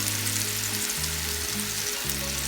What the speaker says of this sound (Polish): I teraz wrzucę czosnek.